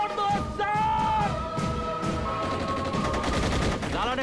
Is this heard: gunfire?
yes